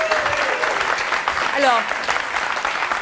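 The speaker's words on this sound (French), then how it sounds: "On peut applaudir Stéphanie." A studio audience applauds Stéphanie on a French television talk show, with dense clapping throughout. A voice speaks briefly over the applause.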